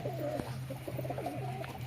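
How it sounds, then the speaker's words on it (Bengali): Pigeons coo in a small loft, a close, repeated rolling call in soft warbling phrases over a steady low hum. "এই হচ্ছে আমার কিছু উড়াই পায়রা দেখে নাও"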